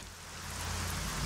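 Steady rain falls outside during a thunderstorm, a dense even hiss of drops on surfaces that swells slightly over a brief moment, with no voices.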